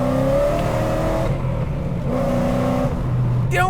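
A Ford Shelby GT500 Super Snake's engine drones loudly from inside the car while driving, swelling and easing through revs across the stretch.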